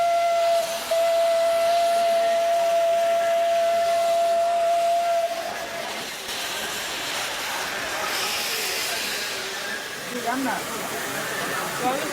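A steam locomotive whistle sounds as one long, steady, loud blast lasting several seconds, then cuts off, leaving hissing steam and rail noise behind.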